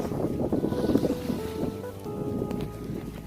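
Ocean waves splash and crest along a Pacific Northwest shoreline, giving a continuous rough wash of surf mixed with wind buffeting the microphone, loud and close with no voices.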